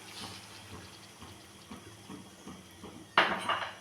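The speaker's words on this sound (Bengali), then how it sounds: "এখন দিয়ে দিলাম নারকেলের দুধ" Coconut milk pours into prawn masala simmering in a pan for a prawn malai curry, a steady liquid rush with light clinks of utensils that swells into a brighter splashing surge near the end.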